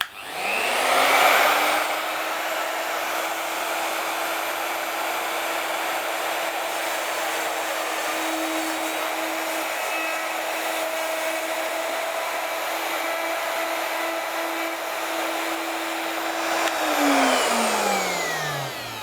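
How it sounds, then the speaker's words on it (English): Router cutting a gearbox fin box hole in a wooden board, a loud high whine that spins up, holds steady for about fifteen seconds while cutting, then winds down, close up with no talking. "So then we do is take the router again."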